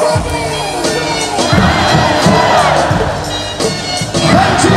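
Baseball stadium crowd at a KIA versus LG game cheering and chanting together for batter Han Jun-su, a loud, dense roar with rhythmic collective shouts and claps throughout.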